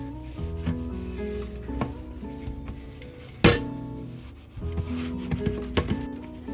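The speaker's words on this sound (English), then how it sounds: "We're going to put some more elbow grease to scrub the stubborn stains off." Baking soda paste is scrubbed against stains on a rice cooker, making close, continuous rubbing and scraping with a sharp knock halfway through, then more vigorous strokes.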